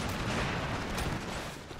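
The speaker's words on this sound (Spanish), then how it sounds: "porque estoy escuchando disparos y no sé si son los míos" Gunfire in a battle in the video game Empire: Total War, a dense continuous roar of musket volleys blending into one another, loud and sustained with no clear gaps.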